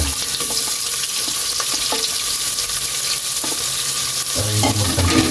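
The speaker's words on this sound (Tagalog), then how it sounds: "mainit na yung mantika natin. Lagyan na natin yung luya." Ginger, onion and garlic sizzle in hot oil in a pan for a pork nilaga, a loud continuous frying hiss with occasional stirring clinks and scrapes.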